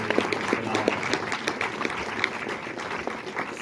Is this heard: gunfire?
no